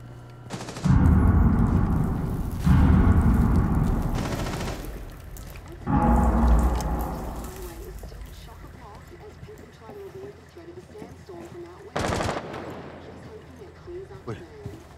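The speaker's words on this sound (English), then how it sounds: "I heard gunshots here." Bursts of gunfire from the video game Rainbow Six Siege, several loud heavy volleys spaced a couple of seconds apart, with quieter in-game ambience and a voice between them.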